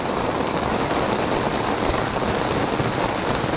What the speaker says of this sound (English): In the pouring rain again.